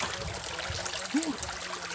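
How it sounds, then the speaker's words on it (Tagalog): River water flowing steadily beside the bank in a rural farming area, a continuous soft rushing wash close by with a brief faint vocal sound partway through. "Ngayon, nandito ako sa gilid ng ilog."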